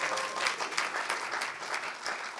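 Audience applause rising from the crowd at a community Unity Walk honoring Black History, a steady wash of many hands clapping that holds throughout at moderate distance, with no voices over it.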